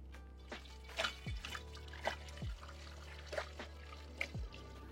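Liquid pours in short gurgling bursts from a sanitised jug into a funnel, quiet and close, with low knocks and pauses between the glugs.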